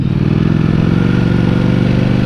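A Ducati Panigale V4 motorcycle stuck in third gear rides steadily, its engine giving a loud, continuous mid-pitched drone with a faint clatter running under it and no pause.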